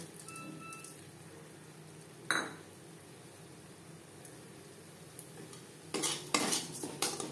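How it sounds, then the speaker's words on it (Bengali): Gobindobhog rice being stirred with spices in a pan over a low flame: soft scraping, a couple of sharper utensil knocks, and a louder burst of stirring and clatter near the end; no talking. "লো ফ্লেমে 2-3 মিনিট মশলার সাথে চাল নাড়াচাড়া করে নেব"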